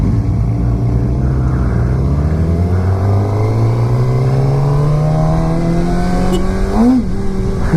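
A 2016 Suzuki GSX-R600 sport bike accelerates hard in second gear, its engine note climbing steadily in pitch, loud and continuous under rushing wind noise from the rider's position.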